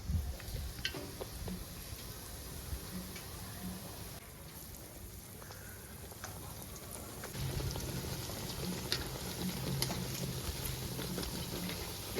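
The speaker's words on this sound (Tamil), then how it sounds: "உருளைக்கிழங்கு பஜ்ஜியை வந்து எண்ணெயில் போட்டு ஒரு பொரி பொரிச்சிடலாம்." Potato bajji frying in hot oil at a tea-stall style setup, a steady dense sizzle with crackling pops and occasional stirring scrapes, continuous and fairly close throughout.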